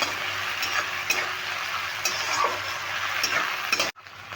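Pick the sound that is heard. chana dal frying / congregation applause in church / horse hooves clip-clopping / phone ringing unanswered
chana dal frying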